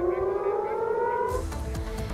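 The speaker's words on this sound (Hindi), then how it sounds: "तमारा इलाके में ड्रोन आने के बाद सायरन भी बजने लगे।" An air raid siren in Israel sounds after a drone interception, a loud sustained wail that holds steady, then gives way to rumbling noise and bursts.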